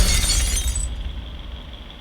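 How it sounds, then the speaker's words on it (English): A mug smashing in a Doctor Who episode: one sharp, loud crash of breaking crockery with bright shattering fragments that quickly fade into a quiet tail. "that's the 3rd mug that's smashed"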